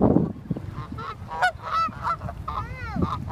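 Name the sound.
birds, likely geese, honking as they are chased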